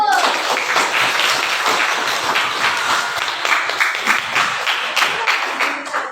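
Classroom applause from students at an Indonesian madrasa, MA Ma'arif Bakung Udanawu, a steady burst of many hands clapping that fills about six seconds at close range, with some voices mixed in.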